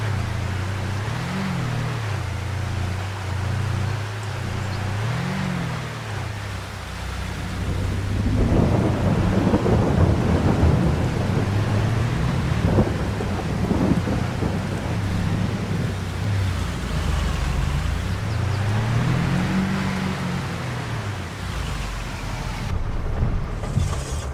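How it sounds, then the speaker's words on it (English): Rain and a thunderstorm in the Farming Simulator 22 video game, with a continuous loud downpour hiss and long, deep rolling thunder rumbles that swell and fade throughout. "Go inside out of the rain."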